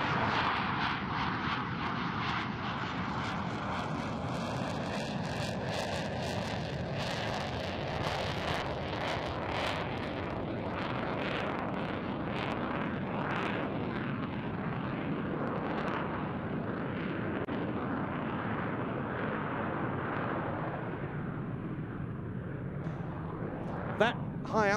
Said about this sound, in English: High alpha pass, around 105 to 110, 120 I should say, knots, at 33 degrees angle of attack.